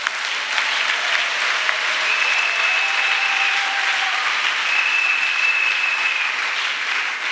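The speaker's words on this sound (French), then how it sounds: "Acclamation." An audience applauding at a religious retreat gathering, loud sustained clapping from a crowd that continues evenly throughout without a break, with a faint tone running beneath it.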